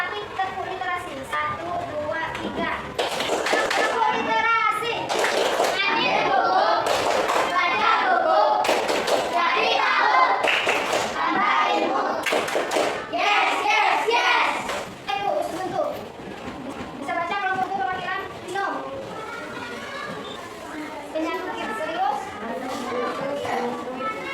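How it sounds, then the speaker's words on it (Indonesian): Children in a classroom perform a rhythmic cheer clap led by a teacher, bursts of patterned clapping alternating with chanting voices and a teacher talking. "tepuk semangat dulu"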